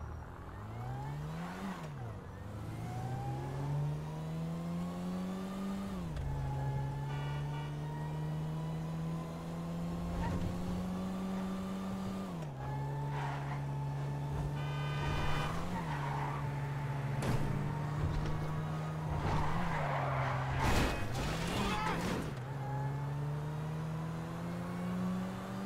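A car is driven hard and fast, with the engine revving up in repeated rising pulls and bursts of tire skid, loud and close. A few short sharp knocks and squeals break in near the end.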